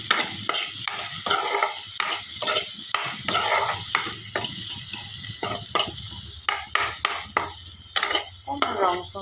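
Fish seasoned with salt and turmeric is stirred in a hot wok. A steady oil sizzle runs underneath repeated scraping strokes of a spatula against the metal, close and fairly loud, with no talking.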